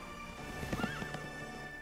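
A horse neighs with a rising whinny over quick clip-clop hoofbeats in the video game Kingdom Hearts 3, close and clear within a steady electronic background hum.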